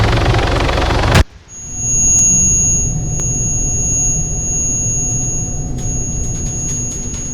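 A helicopter lands in ARMA 3, a loud rotor roar that cuts off sharply, then a steady engine drone with a thin high whine holds underneath.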